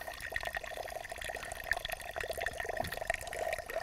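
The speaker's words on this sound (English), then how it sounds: "As we watch it rain on this soil, we can see the water does not penetrate the conventional soil" Simulated rain falls on soil in a demonstration rig, a steady patter of water with scattered drips and a faint trickle running throughout, fairly quiet and close.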